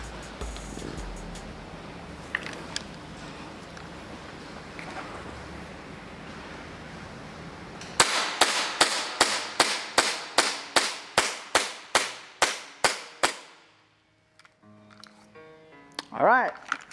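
A gel blaster pistol fires in a mag dump, about fourteen sharp, evenly spaced shots at close range, preceded by outdoor background noise and followed by brief quiet.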